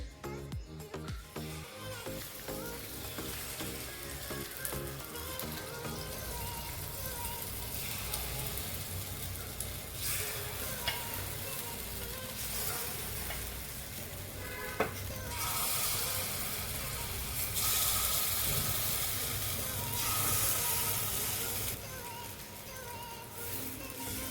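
Appe batter sizzles in a hot oiled appe pan, a steady crackling fry that continues throughout, with occasional metallic clinks and faint background noise, and no voices clearly heard.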